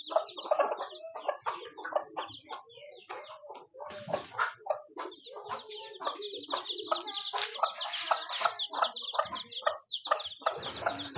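Chickens clucking up close, a busy stream of quick, chattering clucks and sharp peeps that continues almost without pause and grows denser toward the end.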